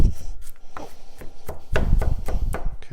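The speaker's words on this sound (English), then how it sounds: "let's get a little rough chop on these" A knife chops roughly through jalapenos and carrots on a cutting board, with irregular thuds close by that pick up speed toward the end, and nobody speaking.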